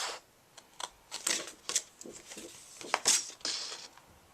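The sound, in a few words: scissors cutting paper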